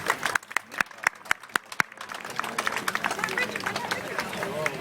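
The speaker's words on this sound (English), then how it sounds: "How about a nice round of applause for everyone?" A crowd at a car show and swap meet anniversary gathering breaks into applause: sharp, separate claps at the start thicken into a steady round of clapping with murmured voices underneath.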